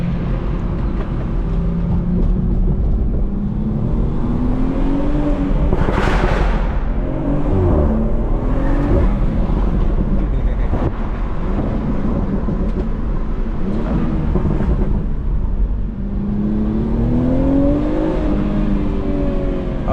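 A BMW 340i roars under hard acceleration around a corner, its intake note rising in pitch through revs, loud and close with gear-change dips and repeated climbs, no talk.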